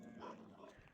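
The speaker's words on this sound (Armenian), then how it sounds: "տեսեք ինչպես է հաչում" A red dog, a large guard dog, gives one short, faint bark, quiet and somewhat distant.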